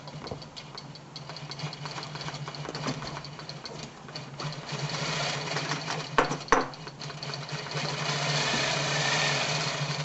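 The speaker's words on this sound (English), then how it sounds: "It's going to stitch slower or faster depending on the design." A computerized longarm quilting machine stitches a pantograph design with a steady, fast mechanical whir and faint ticking, its speed shifting slightly as it follows the pattern.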